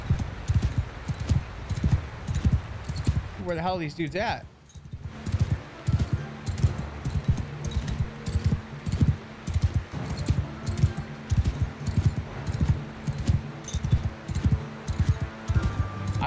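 Horse hooves clip-clopping at a steady galloping rhythm in the video game Mount and Blade 2 with a Warhammer Old Realms mod, with a brief swooshing effect early on and someone talking intermittently over the hoofbeats.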